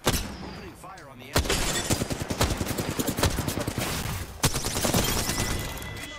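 Rapid bursts of gunfire crackle in a sci-fi shooter game, loud dense volleys of automatic fire with sharp individual shots and impacts, starting after a brief quieter moment and continuing almost without pause.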